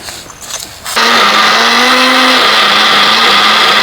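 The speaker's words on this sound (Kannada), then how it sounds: "ಇದನ್ನ ಚೆನ್ನಾಗಿ ಪೌಡರ್ ಮಾಡ್ಕೊಳ್ಬೇಕು ಮಿಕ್ಸಿಗೆ ಹಾಕಿ" A mixer grinder powders roasted lentils for a homemade baby cereal mix; after a second of quiet it starts abruptly into a loud, steady, close whirring roar that holds to the end.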